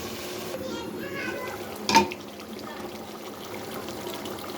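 Water pours into a cooking satkora beef curry as a short, rising gurgle lasting about a second and a half, followed by a brief splash, over a low simmering background.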